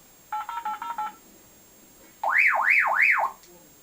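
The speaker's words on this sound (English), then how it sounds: "if I press and hold it like this, you got like an emergency, so it sounds like it's dialing a number, and you got that alarm sound." A Baofeng UV-5R handheld radio's emergency function: five quick beeping dialing tones, a short pause, then a loud siren-like alarm warbling up and down in three sweeps.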